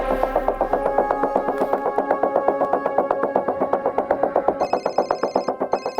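A telephone bell rings in quick repeated metallic trills, loud and close, running steadily without any voices over it.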